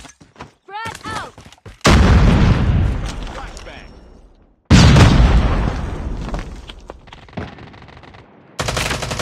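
Grenade explosions in a Call of Duty multiplayer round: two loud, heavy blasts that each tail off slowly, following a brief voice and scattered clicks, with sharper game gunfire pops at the end.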